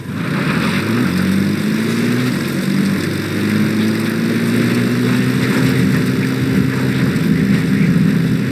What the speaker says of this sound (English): Support helicopter Roger.